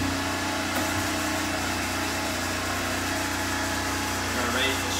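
A hydraulic tire table used for removing a 4x4/UTV wheel fitted with a tire spine runs with a steady, close, continuous motor hum and vibration, holding even throughout with no talk.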